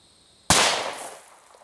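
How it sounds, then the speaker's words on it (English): A single sharp gunshot from a Glock 17 9mm pistol firing a Speer Gold Dot 124-grain round, a loud close crack that trails off in a brief echoing decay. "I shot a couple of these gold dots over the chronograph"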